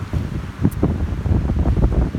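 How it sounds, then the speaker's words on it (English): Breeze blowing across the microphone with ocean waves washing in the background at a seaside park on an island during light sprinkling rain, a steady, close gusty rumble with no speech. "Breeze was really great. Waves in the background."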